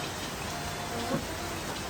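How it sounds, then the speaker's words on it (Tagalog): Rain falling in the video game Minecraft, a steady, even hiss of rainfall with no talk over it. "Umuulan po, umuulan."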